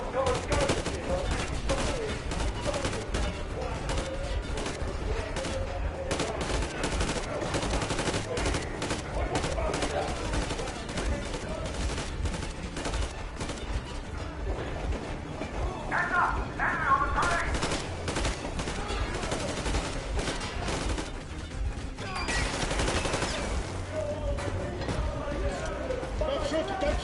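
Sustained gunfire in a firefight from the video game Metro Exodus, dense rapid bursts and automatic fire rattling almost continuously for the whole stretch, loud and close, with shouting voices mixed into the chaos.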